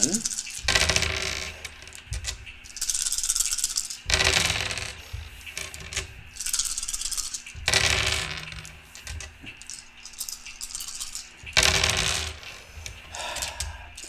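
Color dice rolling in repeated bursts for a reroll, several clattering tumbles across a hard surface, close and fairly loud, with a steady low hum beneath.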